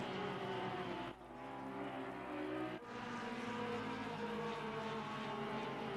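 A Ferrari race car in Assetto Corsa Competizione during a wet rain race, a loud sustained engine roar with two brief dips like gear shifts, steady and close throughout.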